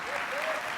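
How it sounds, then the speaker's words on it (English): Brief burst of applause from an audience, dense clapping at moderate volume. "So let's give John a round of applause."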